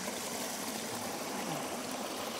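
A stream of clear, pure water flowing steadily in an outdoor setting, a continuous soft rushing wash with no break.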